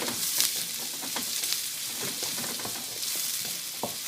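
Chopped onion and sliced green chili fry steadily in a traditional aluminium kadai, a dense continuous sizzle with occasional sharper crackles and stirring scrapes, close and moderately loud.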